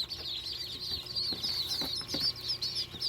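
Newly arrived call ducklings, a miniature duck breed, peep continuously in high, rapid chirps at close range, with faint handling noises underneath.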